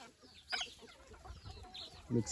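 Free-range pure native country chickens cluck in short, scattered calls against a quiet background, with a louder burst of clucking near the end.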